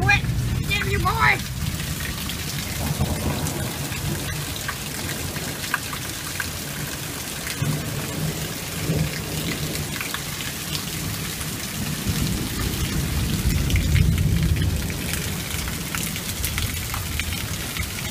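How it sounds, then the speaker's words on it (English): Heavy rain pours steadily with wind and lightning, low rumbling thunder rolling beneath it and swelling near the end. "It's raining and windy and lightning at the same time."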